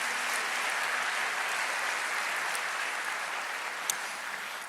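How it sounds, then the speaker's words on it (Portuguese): Congregation clapping during a church sermon, a dense, even wash of applause from many hands at moderate level, sustained for several seconds with one brief sharp clap near the end. "Dá uma salva de palmas aí para Jesus."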